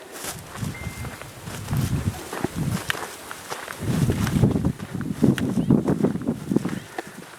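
Footsteps of a person walking outdoors on a path, a steady run of close, soft crunching steps lasting several seconds, with light wind in the background.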